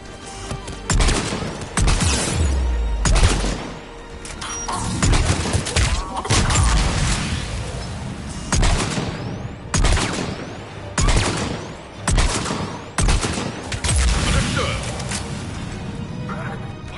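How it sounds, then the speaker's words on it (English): Heavy gunfire on insanity difficulty in the video game Mass Effect 3: loud, repeated volleys of shots and sharp bursts, with brief gaps, continuing throughout. "We're under fire."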